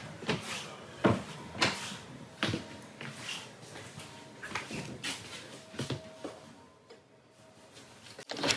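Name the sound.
RV pantry door opening or closing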